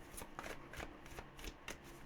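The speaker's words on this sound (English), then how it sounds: "I'm going to cut the deck, shuffle it 3 times," A tarot card deck being shuffled, with several quick papery riffles and card slaps following one another at close range, alone without talk.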